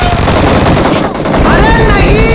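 Rapid bursts of loud gunfire in the game BGMI crackle densely with a brief lull midway, while a voice talks over the shooting.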